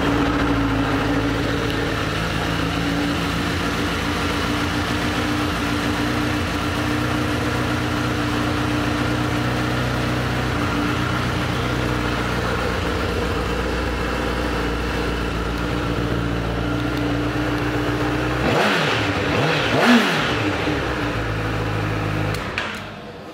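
A 2010 Honda CBR1000RR motorcycle engine idles with a steady, continuous hum, then gives a brief louder rev near the end before settling back to idle.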